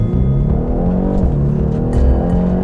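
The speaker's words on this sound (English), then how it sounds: "This is the 255 horsepower 2-liter turbocharged engine. And full left foot brake, full throttle." A 2021 BMW 430i with a 255-horsepower 2-liter turbocharged engine launches hard at full throttle from about 3,100 RPM, its engine roaring steadily and close up through a 0 to 60 run with no talk.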